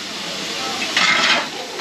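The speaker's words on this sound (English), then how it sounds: "welcome on steam engine" A Sentinel steam lorry at a Swanage Railway road-to-rail event in 2023 gives off a steady, close hiss of steam that swells into a louder, brighter gush midway before easing back.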